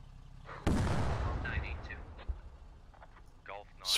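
Heavy DShK machine gun on a technical firing in the game Squad: one loud, close, boomy burst of fire that rings out and decays, followed by fainter distant shots and short bursts of chatter over a steady background.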